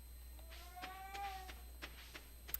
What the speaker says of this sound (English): if you guys hear that noise, that would be my cat, Moto